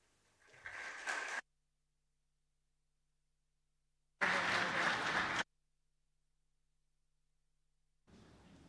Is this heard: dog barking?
no